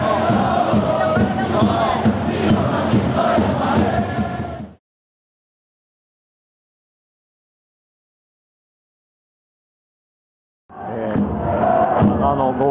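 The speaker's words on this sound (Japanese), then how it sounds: "結構ブーイングが出ているようです。" A football stadium crowd at a J3 league match boos loudly in a dense, roaring wash, which cuts to total silence for about six seconds before the crowd noise surges back.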